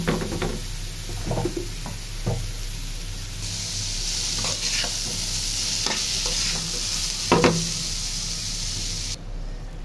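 Papaya frying in a pan with onion and green chili, salt and turmeric, a steady sizzle broken by spatula scrapes and knocks against the pan, louder stirring bursts throughout, no talk.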